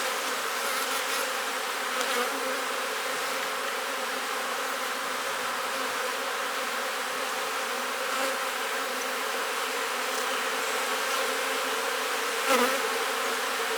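A steady, dense droning hum of many honeybees buzzing continuously nearby, with slight swells and no voices.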